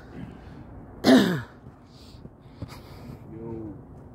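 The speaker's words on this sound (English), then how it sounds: "it's causing me to cough." A single sharp cough, close and loud, brought on by very dry air by the North Saskatchewan River in Edmonton, followed by quiet breathing and a few faint throat sounds.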